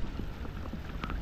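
Rain patters steadily with scattered drops hitting a surface, soft and close, no voices; cold weather.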